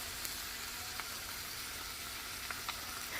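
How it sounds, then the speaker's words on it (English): Lean ground beef with taco seasoning frying in a preheated, oiled cast iron skillet, giving a steady, quiet sizzle with a few faint pops and crackles. "In my preheated cast iron skillet, I'm adding a little bit of cooking oil because I am working with lean ground beef."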